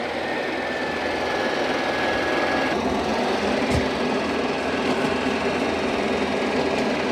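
A Shark NeverTouch Pro robot vacuum and mop combo runs through a cleaning pass, giving a steady, close mechanical whir and hum with a faint high tone and a brief knock partway through.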